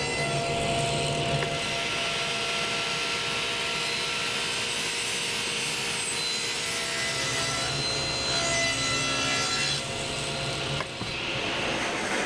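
Saw cutting a veneered curly cherry tabletop to length, a continuous close rasping whir held steady for several seconds with no talking.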